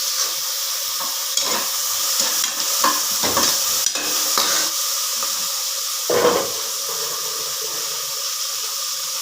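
Chopped tomatoes going into a pan of well-softened onions, hissing and sizzling steadily, with a few loud stirring scrapes and clatters rising above the constant frying.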